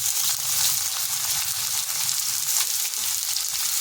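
Dried red chilies, garlic cloves and onion fry in hot oil in a pan, giving a steady close crackling sizzle with no talking.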